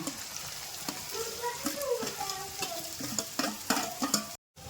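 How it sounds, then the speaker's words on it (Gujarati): Green garlic, ginger-garlic paste and green onion frying in oil, a steady sizzle with scrapes and clinks of stirring throughout, ending in a short silent gap. "ડુંગળી ત્યાં સુધી તેલ છૂટું ન પડી જાય ને ત્યાં સુધી પાકવા દેવાની"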